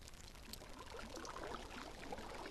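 A bucket scoops water in Minecraft with a soft, continuous pouring splash, quiet and steady, without any talking over it.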